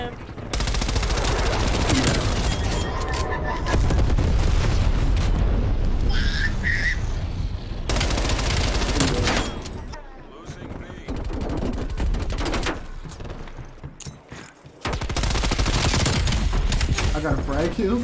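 Call of Duty gunfire plays as loud, dense bursts of automatic shooting and blasts in repeated volleys, with brief lulls between them.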